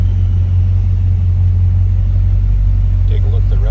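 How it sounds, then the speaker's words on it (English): A 1977 Chevrolet C10 Cheyenne pickup truck engine idles with a steady low rumble throughout, loud and close, with a brief faint higher sound near the end. "Smooth running, nice sounding truck."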